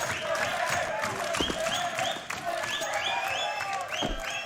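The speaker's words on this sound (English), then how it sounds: "MIBR fans are cheering for a round" Spectators at a BLAST Premier 2020 Counter-Strike match between Liquid and MIBR cheer and applaud for MIBR, a steady crowd roar with scattered claps and whistles, moderately distant.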